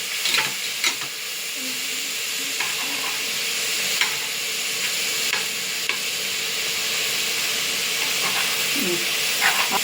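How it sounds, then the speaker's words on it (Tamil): Tomatoes with rock salt sautéing in a pan for a mushroom biryani, a constant close hiss and sizzle with occasional stirring clicks and scrapes. "கல்லுப்பு, தக்காளி நல்லா வதங்கி வரட்டும்"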